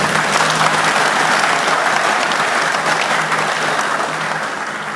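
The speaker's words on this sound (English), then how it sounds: "Please give him another round of applause." A large audience claps loudly and continuously for the Prime Minister of Fiji at a drug-prevention event, the sustained applause tapering slightly toward the end.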